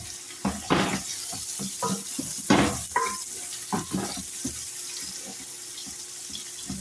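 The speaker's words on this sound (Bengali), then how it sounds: "গোশটা ভালো করে একটু ভাজি করে নিচ্ছি।" Meat frying in a pan, a near, crackling sizzle broken by irregular bursts of spattering and stirring scrapes, loud at first and then settling into a steadier hiss.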